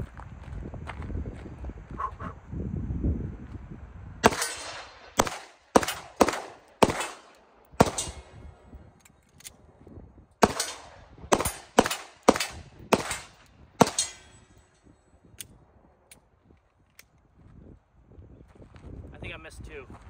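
A Shadow Systems MR920 pistol fired during a shooting test: about a dozen sharp, loud shots in quick uneven bursts. Talking comes before the shots and between some of them.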